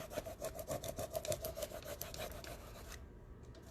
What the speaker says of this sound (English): Then I'm going to go over it with my squeegee and just make sure I got a good seal.